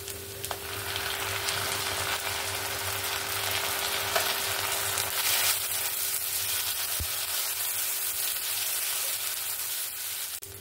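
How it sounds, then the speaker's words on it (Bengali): Ginger-garlic paste frying with browned onions in a pan for tomato rice, a dense, steady sizzle holding loud throughout with a few faint stirring knocks, no one speaking. "এখানে আমার আদা রসুনটাও সুন্দর করে ভেজে নিয়েছি।"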